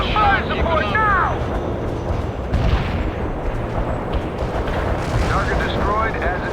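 Heavy artillery strikes rumble and boom in the video game World in Conflict, with dense continuous blasts and rushing noise, while shouted voices and chirping radio-like sounds come in over the battle.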